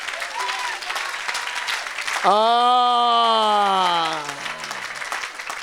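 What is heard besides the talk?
audience applauding and cheering in church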